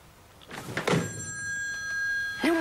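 Telephone ringing in a busy taxi office, an electronic ring with sustained tones over knocks and a thud, with room noise and brief voices around it.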